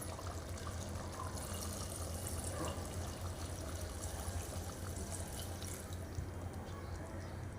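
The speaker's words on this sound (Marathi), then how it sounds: "आता याच्यामध्ये मी थोडंसं गरम पाणी ओतणार आहे" Hot water is poured into a pot of traditional mutton curry, making a soft, steady trickling and splashing that stays faint and even throughout.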